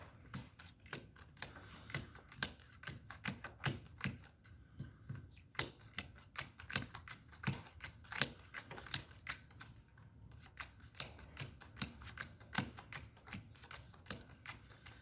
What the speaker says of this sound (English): Paul's going to show how you deal the cards out